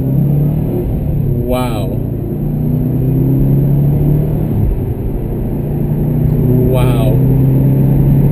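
A 2013 Subaru WRX STI sedan running a COBB Accessport Stage 1 tune, engine droning steadily from inside the cabin with two brief rising rev sweeps toward redline, while a voice exclaims over it.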